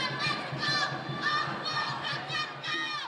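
A protest march crowd moving through downtown Los Angeles streets, a distant swelling roar of many voices chanting and shouting in rising and falling waves.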